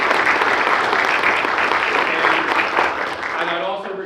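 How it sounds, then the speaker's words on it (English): An indoor audience at a college presentation claps steadily to welcome a speaker, a dense wash of applause that tapers slightly near the end. "So let's give him a round of applause"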